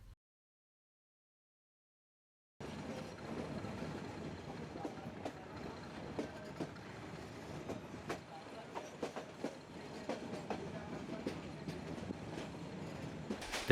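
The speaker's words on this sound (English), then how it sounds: "I took a short journey on a local meter gauge train between Bichia and Majrapurab stations." A local metre gauge train runs between Bichia and Majrapurab through the Katarniaghat teak forest at restricted speed. After about two and a half seconds of silence, a steady rumble with rhythmic clickety-clack of wheels on rail joints carries through to the end.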